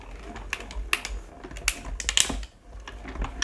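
A manual die-cutting machine pressing folded cardstock, giving a close run of clicking, ratcheting mechanical sounds in an uneven rhythm that ends abruptly, with no speech.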